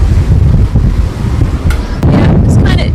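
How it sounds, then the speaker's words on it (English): Wind gusts buffet the microphone at a high outdoor spot level with a multi-storey car park, a steady low roar throughout with a few brief brighter noises near the end. "So it's windy here"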